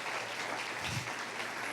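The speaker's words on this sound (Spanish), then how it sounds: "un aplauso para ellos" Applause from a church congregation during a Sunday missionary service, a dense, steady wash of hand claps filling the room at a moderate level for under two seconds, with no clear voices over it.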